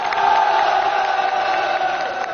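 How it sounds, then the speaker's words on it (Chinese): Steady, dense applause from a studio audience at a televised Lunar New Year military variety show, filling the whole moment with a loud, even roar of clapping and crowd noise. "再次把更热烈的掌声送给他们"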